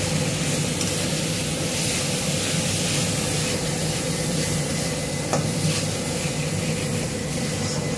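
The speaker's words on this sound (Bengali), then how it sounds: "নাড়াচাড়া করে নেবো।" A spoon stirs homemade chilli powder through egg curry frying in a pan, giving a steady sizzle with soft scraping, close and continuous, with no talking.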